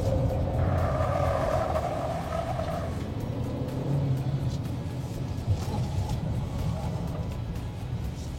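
A Chery Omoda 5 GT driven at high speed during a handling test gives a steady, low cabin rumble of engine and road noise that holds evenly throughout, with no talk.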